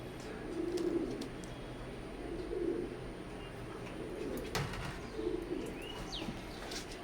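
Imported Saki Teddy pigeons coo softly in three low rolling bursts spaced a couple of seconds apart, with faint chirps and light rustling around them and no talking.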